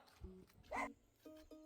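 Dogs at a rural countryside home in Korea give a few short, faint barks from some distance, a yip and then two quick woofs in quick succession against a quiet background.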